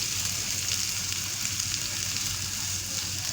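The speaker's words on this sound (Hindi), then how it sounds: "आलू डाल के इसको मिक्स करेंगे ताकि आलू भी थोड़े से फ्राई हो जाए।" Potatoes frying in oil for an aloo kachori filling give a steady, even sizzle with a soft hiss that holds unbroken throughout, close and moderately loud with no voices.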